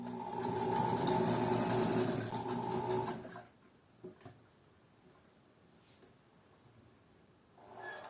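A sewing machine runs a steady, loud stitching pass along the middle section of a garment for about three seconds, then stops, leaving a quiet room with a few faint clicks before a brief whir resumes at the end.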